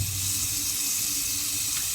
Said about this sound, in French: Attention, je relève mon robinet.